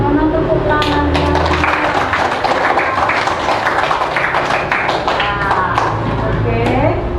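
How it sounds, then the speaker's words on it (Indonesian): Classroom applause for a student group presentation, a brief scattering of hand claps and taps under ongoing talking voices. "Mohon tepuk tangannya."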